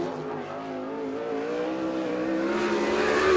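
A sprint car engine in a sprint car race takes the green flag at All Star Circuit of Champions in Abbottstown, Pennsylvania, loud and steady with its pitch climbing as it accelerates, no voices.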